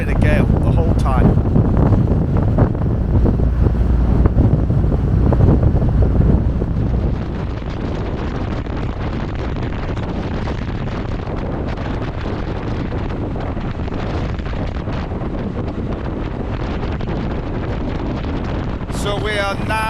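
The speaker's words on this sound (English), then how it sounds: "This wind is relentless, just doesn't stop, blowing a gale the whole time." Strong gale wind buffets the microphone on the Shetland Islands, a loud continuous roar that eases somewhat after the first seven seconds but keeps blowing steadily, with possible vehicle noise beneath.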